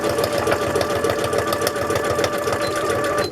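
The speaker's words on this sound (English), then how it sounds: "since we're at the sewing machine today, we're just going to go ahead and sew them" A sewing machine zigzag-stitches fabric steadily at close range, a fast mechanical chatter of the needle without pause.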